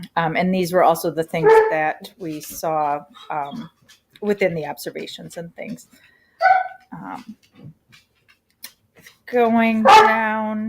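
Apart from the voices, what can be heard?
dogs barking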